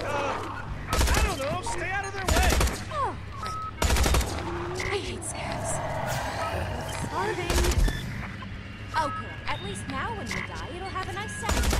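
Gunfire rings out in the video game Tales From The Borderlands: repeated loud, sharp bursts of shots spread across several seconds, with voices and other game sounds between volleys.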